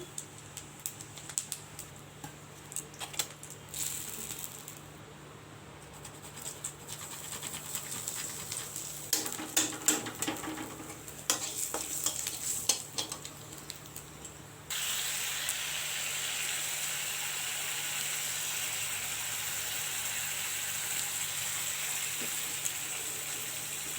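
Cumin seeds, bay leaf and grated ginger tempered in hot oil in a kadai, giving a steady moderate sizzle that jumps to a brighter, louder frying hiss partway through and holds there, close by with no talk.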